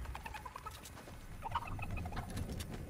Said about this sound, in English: Come back, chicken! I need you, chicken!